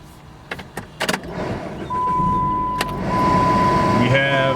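A vehicle engine catching and starting: a few sharp clicks and knocks, then a steady running hum that settles in and holds, fairly close.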